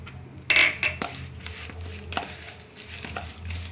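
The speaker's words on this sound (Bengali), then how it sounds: "এবার এগুলোকে আমি ভালো করে মিক্সড করব" A spoon works a thick semolina, oats and curd batter in a bowl, making several sharp clicks and knocks against the bowl's side followed by softer, irregular mixing strokes, close by.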